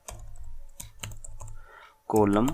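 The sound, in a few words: typing code on a computer keyboard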